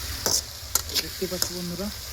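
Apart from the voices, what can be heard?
frying onions in a pan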